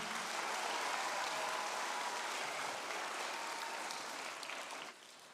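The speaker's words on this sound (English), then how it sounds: "Give them a round of applause one more time" A church congregation gives a second round of applause for its two Rocks program directors, steady and dense clapping that thins and drops away abruptly near the end.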